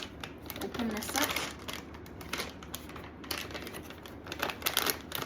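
Crinkly plastic candy wrapper rustling and crackling close up as it is opened, with scattered sharp crackles over a steady low background.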